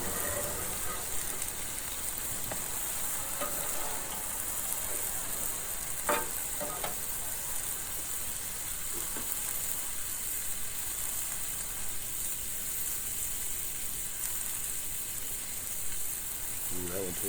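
Burgers and buns sizzle on a flat griddle in a steady, close, hissing fry, with occasional scrapes and light taps from a spatula.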